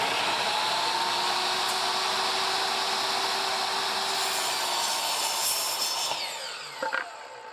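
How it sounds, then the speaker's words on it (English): A power tool, probably a saw, cuts slots in wood for a clamp rack with a continuous loud whine. It runs steadily, then winds down near the end with a few brief knocks. "Now I need to cut the slots out."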